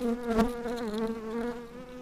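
Honeybees buzz loudly and steadily at an opened hive during colony splitting, a close, continuous droning hum with slight wavering pitch and no talk.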